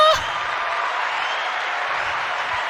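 Applause from a small audience of people clapping their hands after an introduction, a steady dense patter of claps sustained throughout at moderate loudness.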